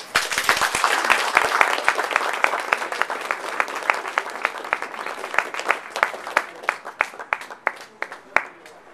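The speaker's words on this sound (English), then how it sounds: "round of applause for that" An audience applauds with dense clapping that thins out over several seconds into scattered individual claps near the end.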